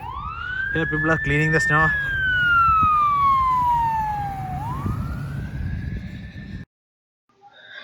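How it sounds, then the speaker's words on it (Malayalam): A wailing fire engine siren sweeps up and down during a Toronto snowstorm, loud and close, over the rumble of street noise. A person speaks briefly near the start, and the sound cuts off abruptly near the end. "We are having a lot of fire engines and everything going on."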